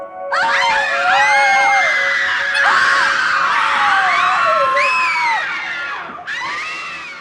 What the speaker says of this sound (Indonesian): Teriakan yang terdengar seperti 100 orang yang sedang disiksa